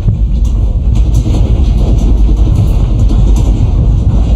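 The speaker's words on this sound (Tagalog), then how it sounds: "Ganito pala yung tunog ng gumagalaw na lupa." A deep, continuous rumble of an earthquake in Morocco with a low roar and faint rattling, loud and steady throughout without any voices.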